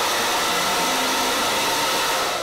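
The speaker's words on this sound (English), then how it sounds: "using the Miracle brush and her blow dryer, I'm going to only blow dry her roots" A hair dryer blasting steadily and loudly at close range while blow-drying hair roots with a Miracle brush, a continuous airy roar with no talk.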